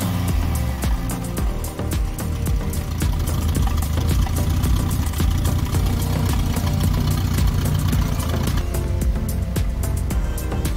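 A car engine starts for the first time after repairs and runs at a rough, rumbling idle, loud and close, with a steady low drone and faint ticking throughout.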